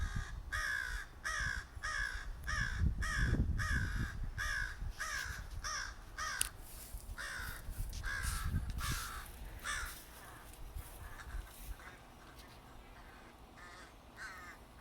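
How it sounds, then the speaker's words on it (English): Crows caw outdoors in a rapid, repeated series of harsh calls, loud at first then trailing off into fainter, sparser caws, with low background noise and occasional other sounds underneath. "Okay, there's crows."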